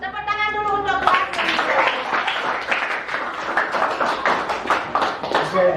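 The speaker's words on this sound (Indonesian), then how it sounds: "Tepuk tangan dulu untuk kelas." Children in a classroom clap their hands together in a rapid, steady burst that keeps going, close and loud, with a sung or spoken voice at the start.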